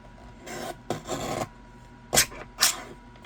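Edges of a paper greeting card trimmed with a rasping, scraping cut, heard as a few short passes alone and close up.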